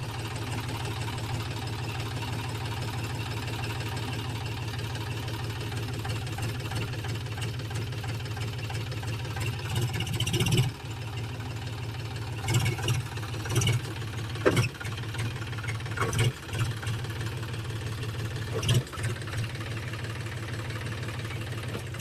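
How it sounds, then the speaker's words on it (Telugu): A tractor engine with new clutch plates idles close by, a steady low knocking throb that runs the whole time, with a few short louder clanks. "బండి వచ్చేసి బండి స్టార్ట్ చేసి బండి కండిషన్ ఎట్లుందో చూద్దాం."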